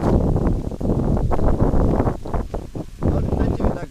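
Strong wind roars by the sea in loud, gusty buffets against the microphone, a continuous low rumble with surging peaks and no clear voices.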